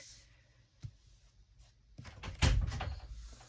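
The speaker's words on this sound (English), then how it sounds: "the wind caught the door" A door caught by the wind swings and knocks, with a soft thud followed by a louder rattling, creaking bump and scraping movement, close by in a room, with no talking.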